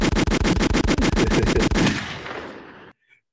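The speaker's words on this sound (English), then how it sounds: "I think you got some gunshots." A rapid burst of automatic gunfire rings out loud and sharp, about a dozen quick shots in steady rhythm over two seconds, then trails off into a fading echo and silence.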